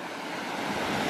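A jungle waterfall roars as a dense, steady rush of water, loud and continuous without breaks.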